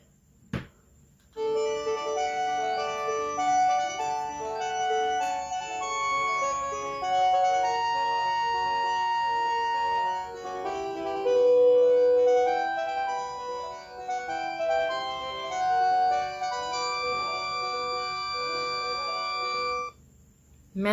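A Panasonic cordless phone plays Ride of the Valkyries as its ringtone, a clear electronic melody of tinny beeping tones running steadily for about eighteen seconds, alone and close.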